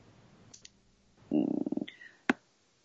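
A computer mouse button clicked a few times in a quiet room: two light clicks, then a quick rattling burst of clicks and one sharp final click, close and fairly soft.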